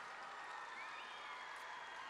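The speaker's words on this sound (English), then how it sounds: "Another big round of applause for Paul and the guitarist." Youth arts festival audience applauding after a singer and guitarist perform, an even, continuous patter of many hands heard faint and distant, without speech.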